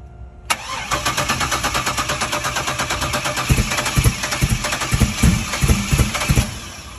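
A Ford Ranger with a swapped 6.0 LS V8 cranks and fires on its first start, then settles into a loud, close, lumpy idle with a steady pulsing rhythm.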